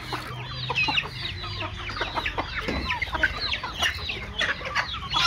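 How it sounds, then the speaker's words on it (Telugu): Chickens cluck in a village yard in an irregular, overlapping stream of short calls, fairly close and steady throughout. "ఎందుకు తీసుకెళ్తున్నావు నువ్వు కోడిని"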